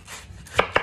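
A knife chops through fruit such as mango or watermelon on a board, two sharp close cuts in quick succession over quiet kitchen background.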